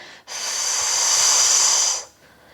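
A long, steady breath, hissing and airy, runs for about two seconds during an abdominal breathing exercise done on a mat, close and loud, with near silence before and after.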